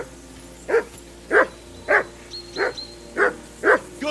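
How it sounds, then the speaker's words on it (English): Dog in Kingdom Come Deliverance 2 barking in a steady series of about six sharp, evenly spaced barks, fairly close and loud over a faint hum, with no talking. "Jesus, Henry, that barking's driving me nuts."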